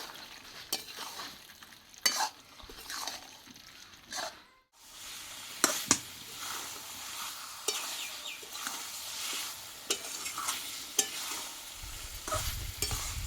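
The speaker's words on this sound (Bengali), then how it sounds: "দিয়ে বেশ কিছু সময় নিয়ে ভালো করে এবার চিকেন আলুটা কষিয়ে নেব।" Chicken and potato pieces stir-fried in a pan for a Bengali chicken dish, with continuous sizzling and frying under repeated scraping and stirring strokes from a spatula, close and steady throughout.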